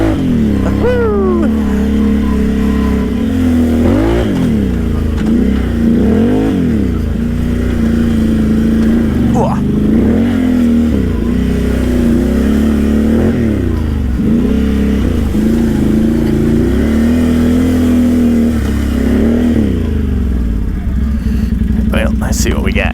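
A Can-Am Outlander 800 ATV engine revs up and down continuously while riding over rocky, hilly ground, loud and close, its pitch rising and falling in repeated surges throughout.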